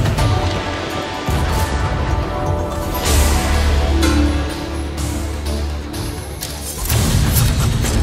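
Fireworks in an Overwatch Lunar New Year event: a run of loud, close bangs and crackling bursts with booming low thuds, repeating in clusters over several seconds.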